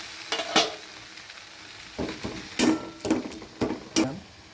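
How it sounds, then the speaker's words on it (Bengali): Onion and ginger paste sizzles in hot oil in a pan while a spatula stirs and scrapes it, during cooking of potol chingri. Soft frying hiss sits under sharp, close scraping strokes at an uneven rhythm. "পেঁয়াজটা দিয়ে দিলাম পেঁয়াজটাকে ভেজে দিয়ে দিলাম আদা আদা বাটাটা"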